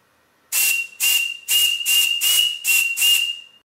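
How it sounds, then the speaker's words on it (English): A large cast steam whistle, a larger-scale copy of a PM Research whistle, blows in a workshop: seven quick, loud hissing blasts in a row over one steady shrill tone that carries through to the end. "it's a bit of a larger scale copy of a PM Research whistle"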